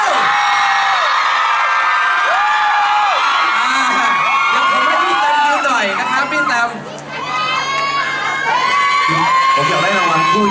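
An audience packed into a hall cheers and shrieks for Sam at a 2012 awards event, shrill whoops and screams surging and dipping over a steady roar of crowd noise, loud and close.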